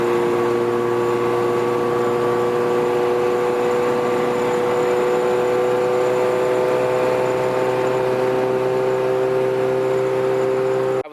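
A 575 hp turbocharged Honda Civic idles steadily while warming up, a continuous close engine drone with a steady whine that holds unchanged throughout and stops abruptly at the very end.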